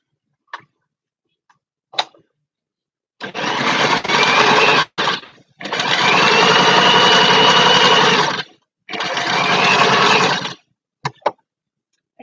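A sewing machine stitches a Danish priest collar in three long, steady runs of rapid mechanical chatter, separated by short silences and a few isolated clicks.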